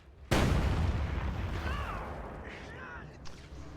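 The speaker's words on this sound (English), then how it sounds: "Good use of the demo charge." A demolition charge detonating in a World War II strategy game, a single sudden loud boom with a long rumbling, crackling decay and faint whistling debris afterwards.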